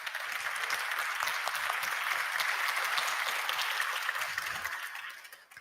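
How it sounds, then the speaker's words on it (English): An audience at an international arts and culture summit gives a sustained round of dense applause, even and steady for about five seconds before tapering off at the end. "Please give her a round of applause."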